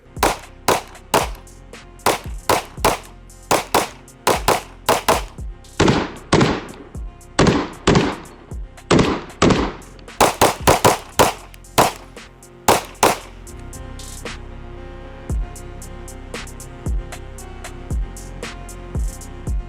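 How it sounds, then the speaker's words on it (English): Ruger RXM pistol firing rapid consecutive rounds, a long run of sharp, loud gunshots in irregular bursts with echoing decay, some shots spaced apart and others in quick clusters, with no talking. "So we're just gonna keep shooting and see what happens."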